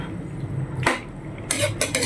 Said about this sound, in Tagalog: Haluin lang natin ang bongga para ma-incorporate natin yung